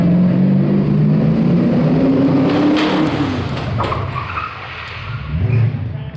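A Chevy Silverado prerunner pickup truck's engine winds up and then tires scrub as it skids hard to a stop, loud and close, followed by a rougher rumble.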